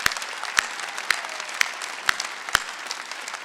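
At a Sunday church service, a congregation claps hard in unison, six loud, evenly spaced beats about half a second apart over a lighter scatter of hands.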